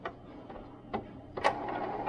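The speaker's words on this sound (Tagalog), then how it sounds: "patayin natin yung printer natin." A few soft mechanical clicks and a short whirring burst from an Epson L121 printer as it shuts down, fairly quiet in a still room.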